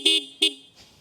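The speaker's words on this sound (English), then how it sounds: "Okay, so horn check for the Apache 310 RTR." Two loud, short blasts from the horn of a TVS Apache RTR 310 motorcycle, close by, with a brief pause between them and nothing after.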